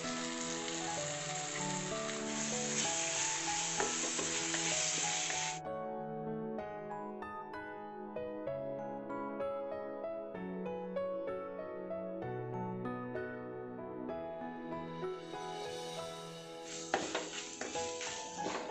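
Bitter gourd poriyal sizzles as it is stir-fried in a pan. A bright, hissing sizzle opens and returns near the end, with melodic music playing throughout.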